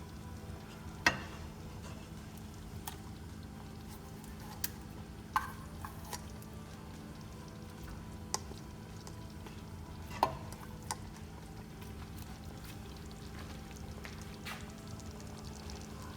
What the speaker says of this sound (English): after we added the cashew and the almond paste, we stirred it and cooked it a little bit